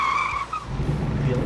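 Tires of a twin-turbo Gen III Hemi SRT8 Dodge Challenger squeal and skid as the car slides on a track. Loud and close, with the rumble of the engine underneath.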